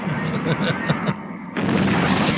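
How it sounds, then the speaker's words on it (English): Building explosion in a 1989 movie, a loud continuous roaring rumble with bursts of debris, swelling again toward the end, heard alone. "Yeah, that's the building exploding right there."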